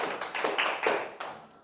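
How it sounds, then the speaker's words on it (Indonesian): A classroom audience claps for the first student group after their presentation, a short burst of scattered hand claps and taps at moderate distance, fading out within under two seconds. "Tepuk tangan untuk kelompok 1."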